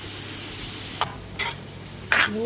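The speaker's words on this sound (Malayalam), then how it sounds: "നല്ലപോലെ മിക്സ് ചെയ്തെടുക്കണം കേട്ടോ" Salted Moovandan mango pickle is stirred with a spoon, producing three short, separate scraping and clinking strokes over a steady background hiss.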